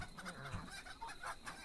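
Chickens cluck in the video game Tales of the Tavern, with several faint, choppy clucks and squawks close together throughout.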